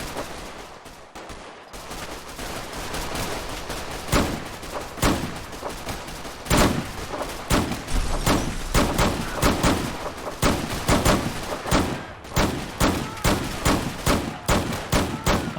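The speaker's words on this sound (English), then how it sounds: "Who's shooting at me?" Loud, dense gunfire from raiders in the Fallout 4 video game, rapid overlapping shots and bursts crackling almost continuously, with heavier booming reports punctuating the barrage.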